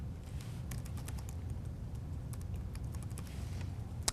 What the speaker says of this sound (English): Let me just type the path for that.